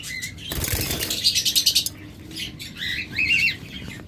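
Lovebirds, including yellow-collared lovebirds, flap their wings in a loud rapid burst up close, followed by sharp high chirps and squawks against a quiet background.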